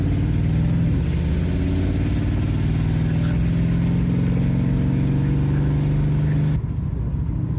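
A 1970 Dodge Challenger 440 Six Pack R/T clone on a first drive in 17 years, its V8 droning loudly and steadily with rising throttle, then easing off abruptly near the end.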